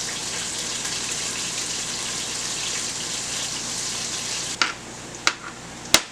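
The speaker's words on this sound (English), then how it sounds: "As that last pork chop is finishing sauteing" A pork chop sautéing in a pan gives a steady, even sizzle that fills the clip, followed near the end by three sharp clinks or taps.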